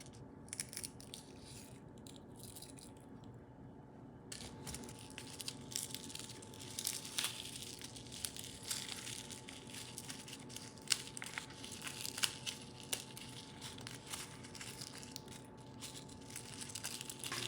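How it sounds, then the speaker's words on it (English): Dry guajillo chilies being handled, their stems cut off and seeds pulled out, giving a steady run of soft crinkling, crackling and crunching sounds at close range with no talking. "I'm going to cut this stem and take the seeds out"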